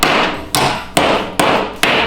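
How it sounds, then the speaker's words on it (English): Five sharp, evenly spaced hammer strikes ring out on heated metal while bending a headlight mounting tab, each a loud clang with a short ringing decay. "give it a few hits with the hammer"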